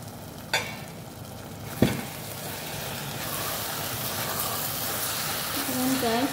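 A chicken and rice mixture sizzles steadily in a pan while being stirred, with two sharp utensil knocks early on and a soft, continuous frying hiss throughout; a voice briefly enters near the end.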